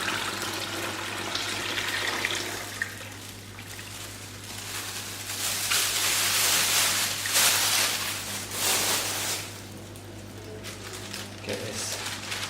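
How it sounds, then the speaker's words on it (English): Water poured into a reef aquarium sump, a steady broadband splash and trickle that swells and fades over several seconds, heard at close range over a constant low pump hum. "Put the rest of that water in."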